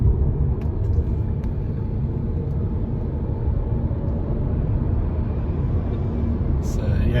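A BYD Dolphin electric car on the move, heard as a steady, dense low road and tyre rumble that fills the cabin from start to end, with a few faint ticks early on.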